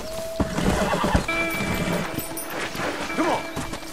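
A horse in Red Dead Redemption whinnies and its hooves clip-clop in a steady gait, the game sounds mixed fairly loud with a voice speaking over them.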